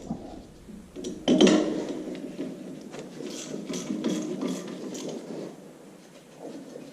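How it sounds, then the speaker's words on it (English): Bolts come off the power unit of an IHC Farmall Super MTA tractor under restoration: quiet, irregular metallic clicks and ratcheting clanks of a wrench close by, with a sharper knock near the start. "I need to remove the 2 bolts on each side of the Balin power unit."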